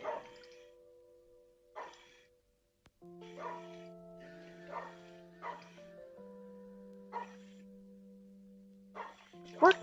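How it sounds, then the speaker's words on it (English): A neighbourhood dog down the street barks in a string of separate, fairly faint woofs with pauses between them, under a steady tonal background. "It's a dog that lives down the street."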